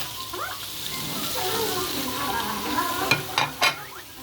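Carrots and potatoes sizzle steadily in a pan for a pork giniling dish, with a continuous close frying hiss and a few sharp stirring clacks near the end.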